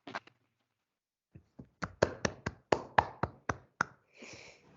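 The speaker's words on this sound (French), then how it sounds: "on va vous applaudir à distance et en présence" Applause at a conference plenary session, with the audience clapping both remotely and in person. It comes as a short burst of sparse, distinct claps from a small group, then a brief pause, then about ten more evenly spaced claps that fade into a soft rustle.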